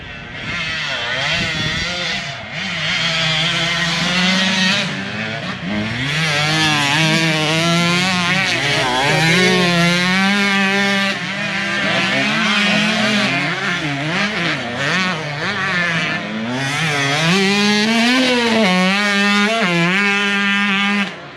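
Several MX dirt bikes riding at the SSR motocross training facility, engines revving and rising and falling in pitch continuously, loud and close with overlapping passes.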